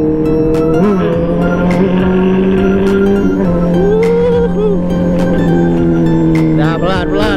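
A high-revving Honda CBR150R K45 motorcycle engine holds a steady loud drone, pitch rising and falling through gear changes, with occasional sharp clicks and a voice briefly in the background.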